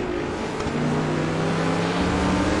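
A race car runs on the damp Nordschleife circuit, its engine giving a steady, fairly distant drone with a broad wash of road noise and no clear bursts.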